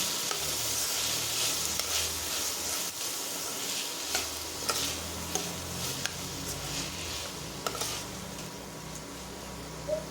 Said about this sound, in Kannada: ಈಗ 1 ನಾಟಿ ಟೊಮೊಟೊವನ್ನು ಈ ರೀತಿಯಾಗಿ ಕಟ್ ಮಾಡ್ಕೊಂಡು ಸೇರಿಸಿ ಇದನ್ನು ಸಹ ಫ್ರೈ ಮಾಡ್ತಾ